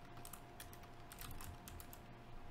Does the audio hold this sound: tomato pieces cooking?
no